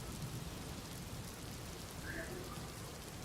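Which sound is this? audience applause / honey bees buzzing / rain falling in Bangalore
rain falling in Bangalore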